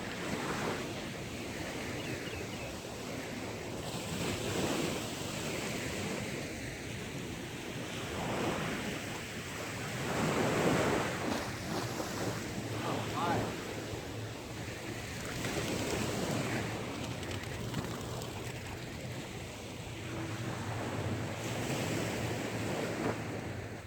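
Sea waves wash onto a beach at Hua Hin on a bright morning while wind buffets the microphone, a steady broadband roar with gentle surges of surf and no talking.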